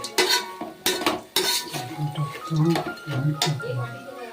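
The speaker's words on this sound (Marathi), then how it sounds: "आता हे सर्व चिवडा बनवण्यासाठी हे सर्व मिश्रण एकजीव करूया" Chivda ingredients, peanuts among them, being stirred together in a pan for Diwali snacks, with repeated clinks and scrapes of a utensil against metal, close and fairly loud, plus a few soft background sounds.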